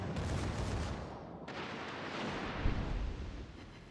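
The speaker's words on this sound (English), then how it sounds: "my secondaries open up on the Z23 and I put a salvo on" Warship secondary guns fire a salvo in World of Warships: Legends, a dense, sustained roar of overlapping booms and rumbling blasts with one sharper crack near the end.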